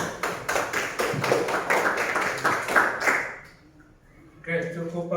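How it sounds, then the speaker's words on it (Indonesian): A primary or secondary school class claps together for a student's answer, producing a string of crisp, evenly timed claps for about three seconds. The claps then stop, and voices start talking after a short pause. "Tepuk tangan."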